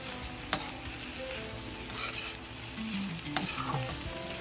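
Ingredients for chicken noodles fry in a pan while being stirred, a steady sizzle broken by occasional spatula scrapes and taps against the pan.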